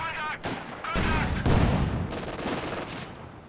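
Mortar and gunfire in a Company of Heroes match: loud, repeated booming blasts and crackling shots overlap in dense bursts, with one sharp strong hit near the middle and a steady battle din throughout.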